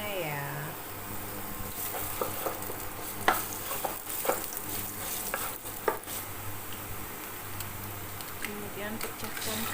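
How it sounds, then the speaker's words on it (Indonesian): Garlic sizzles in vegetable oil in a pan while being stir-fried for Singapore-style kway teow, a steady frying hiss with scraping stirring strokes and someone speaking over it. "Tuang kira-kira 2 sendok makan minyak sayur untuk menumis. Masukkan bawang putihnya ya."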